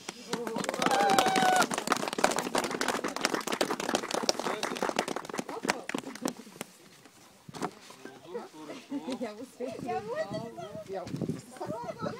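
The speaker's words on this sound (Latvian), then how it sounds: "Aplausi." A small audience at a rally awards ceremony claps loudly and continuously for several seconds, then the applause thins out while people talk over it.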